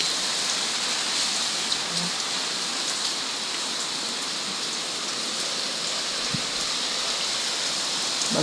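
Heavy typhoon rain in the Philippines pours steadily, a dense continuous hiss with occasional drops and faint thumps close by.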